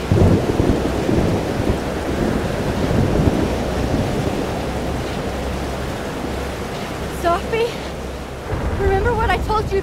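Thunderstorm in the game Life is Strange: Double Exposure: loud, continuous rain and wind with heavy rumbling throughout, while a voice speaks briefly near the end.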